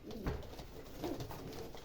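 A dove coos softly in low, muffled notes that repeat at an unhurried pace, faint and fairly close against a quiet outdoor background.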